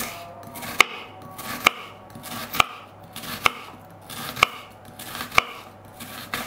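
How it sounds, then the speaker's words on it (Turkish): A red onion is julienne-sliced into long strips with a knife, giving six evenly spaced sharp chops on a board, roughly one per second, close and clear with no talking. "Şöyle jülyen şeklinde uzun uzun doğruyorum."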